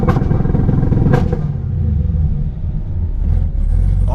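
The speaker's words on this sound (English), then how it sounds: "So I'm gonna hold the button and floor it." A Chevrolet Camaro ZL1 (sixth generation) held on two-step launch control, its engine droning loud and close in a steady bouncing rev-limited rumble, with a couple of sharp crackles and no speech.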